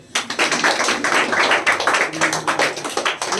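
A group of students claps together in a spoken English classroom, producing quick, rhythmic, fairly loud claps that continue steadily for a few seconds.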